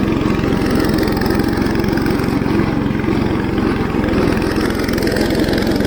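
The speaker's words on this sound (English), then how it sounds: "And this is actually a really nice deck on this tractor." A riding tractor with a mower deck runs steadily close by, a constant low engine drone with a dense rumble that holds level the whole time, cutting dry grass on a mountain hay farm with sticks and brush around.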